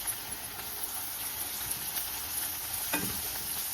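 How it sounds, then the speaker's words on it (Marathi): A steady sizzle of ginger-garlic paste frying in hot oil, with occasional stirring scrapes and a soft clatter partway through. "आता हे अद्रक सुद्धा छान परतून घ्यायचं आहे तेलामध्ये"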